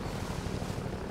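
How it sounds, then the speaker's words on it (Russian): A helicopter in the VR video game Half-Life 2 gives a steady, low, rumbling rotor drone that holds at moderate loudness throughout a very short stretch, with no voices over it. "Вертолет?"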